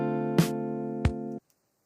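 A neo soul jazz guitar part sustains steady chords alongside a beat, with two sharp percussive hits punctuating the ringing tones before everything cuts off abruptly near the end.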